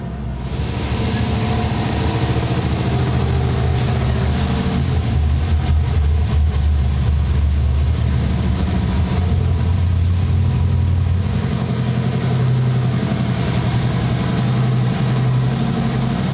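A stock turbocharged 5.3 truck engine with nitrous runs on a dyno. It makes a loud, heavy, continuous mechanical drone that holds fairly steady for about sixteen seconds with no talk over it.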